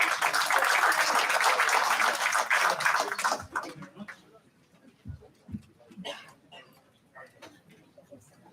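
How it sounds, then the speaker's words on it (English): Audience applause at a business event, a dense burst of clapping lasting about three seconds and then dying into scattered claps and small room noises. "Ladies and gentlemen, please give a warm round of applause for Mr."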